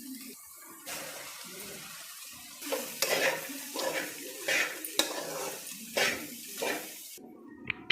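Rice is stirred into a fried egg and coriander mixture in a pan, giving soft sizzling with repeated scraping strokes of a spoon, close and fairly quiet.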